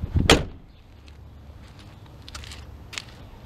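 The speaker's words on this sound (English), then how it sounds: "Alright, gonna shut the door." Car door shut during a battery drain check, a single solid thump at the start followed by quiet ambient noise and a few faint clicks.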